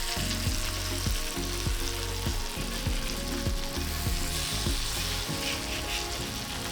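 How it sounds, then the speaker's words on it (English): Slices of vegan goetta crisp in a hot pan with a loud, steady sizzle, punctuated by several scraping turns of a utensil against the pan and no voices. "that seems like a really nice level of getting fried"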